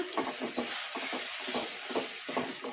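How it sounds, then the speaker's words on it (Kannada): Cashew masala frying in tempering over a medium flame, stirred with a spoon in rhythmic scraping strokes over a soft continuous sizzle, close and moderately loud with no talking. "ಮಸಾಲ ಹಸಿ ವಾಸನೆ ಹೋಗೋವರೆಗೂ ಫ್ರೈ ಮಾಡ್ಕೊಂಬಿಡೋಣ ಮೀಡಿಯಂ ಫ್ಲೇಮಲ್ಲಿ ಈ ಥರ ಕಲಿಸ್ಕೊಂತ"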